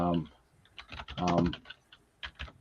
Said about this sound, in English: I'm just typing it up here